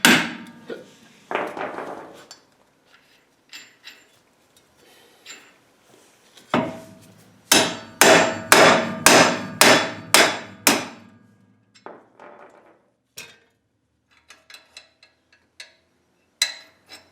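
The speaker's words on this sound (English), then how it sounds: "I'm going to try tapping in on the axle again." A hammer striking a ball joint on a Jeep JK axle, first a few scattered knocks, then a run of six or seven loud, evenly spaced metallic blows, followed by lighter sporadic taps nearby.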